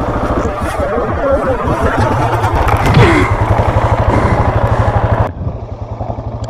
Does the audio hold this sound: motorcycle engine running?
yes